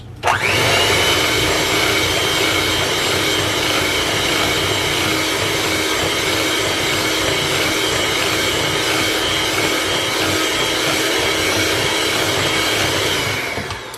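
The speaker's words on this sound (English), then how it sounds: "if you're using a hand mixer, what I like to do is just move my bowl around like this as I'm mixing." An electric hand mixer beats vanilla cake batter in a bowl, a loud, steady whirring drone that runs unbroken for the whole stretch before cutting off at the end.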